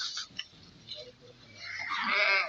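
A tiny young goat kid, held in someone's hands in a village yard, gives a few short bleats and then a louder, drawn-out bleat near the end, close by, with faint background noise and no talk.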